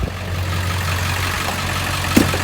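A Ford 7.3 Powerstroke diesel truck engine idles steadily with a low, constant rumble, close by, and a brief sharp chirp pops up near the end.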